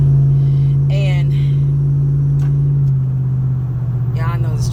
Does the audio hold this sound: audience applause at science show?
no